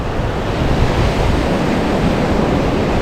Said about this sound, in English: The waves are much bigger here.